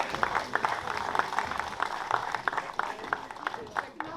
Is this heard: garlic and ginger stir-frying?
no